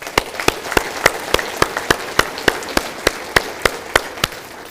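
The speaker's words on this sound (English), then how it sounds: "let's give them a round of applause, folks" Audience applause at a State of the City address in Broken Arrow, heard as a rhythmic series of sharp, evenly spaced claps over a low background hiss, fairly close and moderately loud.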